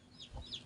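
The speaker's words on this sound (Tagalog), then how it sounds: "nagwangwang na naman yung mga manok naming alaga" Pet chickens cluck in a short, close burst, a few throaty clucks over a soft background murmur.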